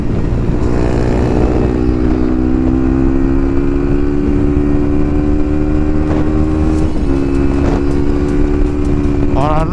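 A 2021 Beta 125 RR four-stroke liquid-cooled motorcycle engine is ridden loud and close, its steady droning note shifting through gears, with sharp popping backfires near the end and someone talking over it.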